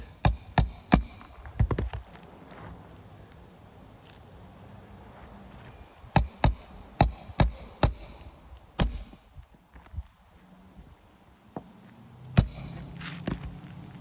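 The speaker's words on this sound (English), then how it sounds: "I don't want to take all your time up nailing." A hammer nails roof shingles with sharp, close strikes, first a quick series, then a second rapid run after a pause and a few scattered blows later, with faint outdoor background between them.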